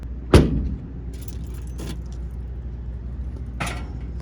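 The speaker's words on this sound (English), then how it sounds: "I'm struggling to get my keys in the pocket" Car keys jangle sharply as they are pushed into a pocket beside a 1962 Dodge Dart 440 Six Pack, one loud rattle followed by softer jingles and a second burst near the end.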